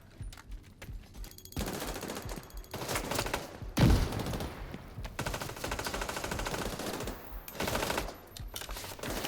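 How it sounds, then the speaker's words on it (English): Rapid automatic gunfire in a firefight in the video game Tom Clancy's The Division 2, with bursts of machine-gun fire and a heavy thump in the middle, loud and continuous with short pauses. "Couldn't believe I got into a firefight like this."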